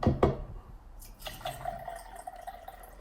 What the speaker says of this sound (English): I'll carefully put an egg into that cup.